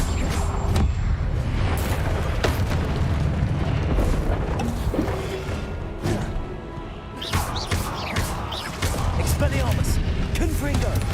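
Spell blasts in Hogwarts Legacy crash and boom repeatedly in a dense, loud barrage of impacts and crackles during combat, while a voice talks over the din.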